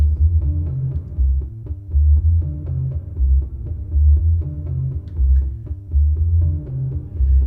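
A deep, pulsing bass pattern repeats steadily through a Bricasti echo plate reverb, each throb trailing into a thick, dark reverberant tail with faint higher tones above.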